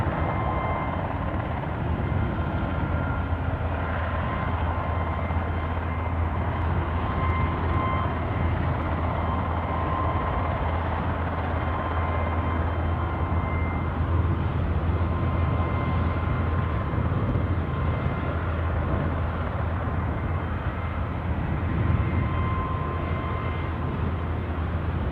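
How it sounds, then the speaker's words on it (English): An incoming EasyJet jet airliner approaches Aberdeen Airport, a distant, steady low engine drone with a constant hum underneath lasting throughout, no talking. "that'll be our incoming EasyJet"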